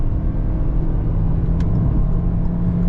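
Inside a car in heavy traffic, a loud steady engine and road rumble drones throughout with one brief high click partway through.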